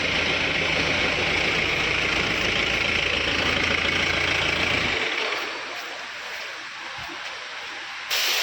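A car engine that had sat until its battery ran down idles with a loud, steady rumble for several seconds, then drops away to a much quieter background.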